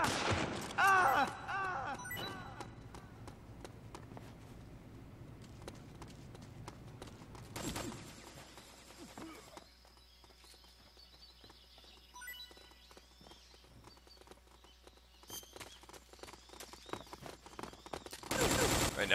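Gunfire from the Metal Gear Online video game crackles in scattered rapid bursts and single shots, fairly quiet, with gaps of softer background sound between the volleys.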